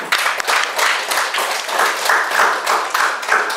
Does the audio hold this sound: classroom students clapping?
yes